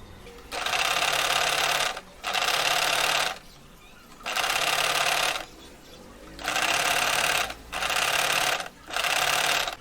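A sewing machine stitches folded cloth for a Laddu Gopal turban in six loud bursts of rapid running, separated by short pauses, with no one talking.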